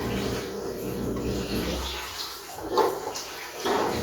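Cooking oil pours into a pot for making popcorn, a soft, uneven liquid splash and trickle heard close and at moderate volume over a few seconds.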